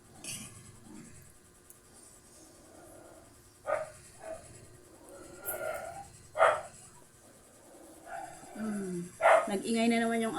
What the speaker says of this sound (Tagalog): Nag-ingay na naman yung aso sa labas.